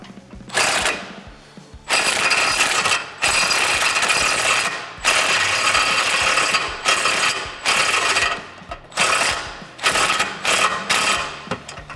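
Repeated bursts of a ratchet spinning a control arm bolt out on a 2006-2022 rear-wheel-drive Dodge Charger during a lowering spring install, loud close clicking runs of about a second each separated by brief pauses, no talk.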